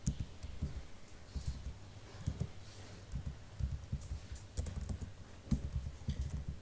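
Keys on a computer keyboard clatter as a Python print statement is typed, a steady run of light, close clicks with brief pauses between bursts, heard alone.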